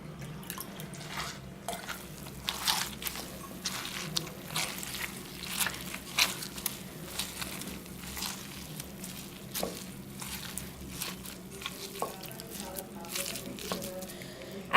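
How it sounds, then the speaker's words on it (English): Wet paper pulp being churned for papier-mâché, with irregular squishy drips and splashes of water draining off, soft and close, some faint voice in the background. "You churn the paper and keep draining out the excess water."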